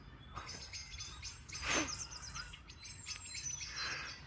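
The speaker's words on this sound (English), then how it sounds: "Woken in part by the dawn chorus" A dawn chorus of several birds chirping and calling at once, faint and scattered, with one brief louder call amid a quiet outdoor hum at a wild camp.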